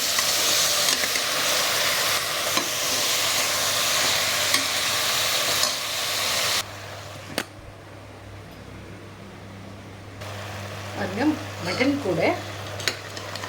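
Mutton frying in a pan gives steady loud sizzling in the first half, then drops to a quieter crackle with occasional scraping stirs and clinks.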